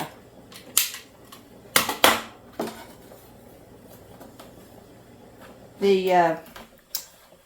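Boiled eggs being cut with a regular kitchen knife, producing a few sharp, scattered taps and clicks of the blade against a cutting board, with a short stretch of voice partway through.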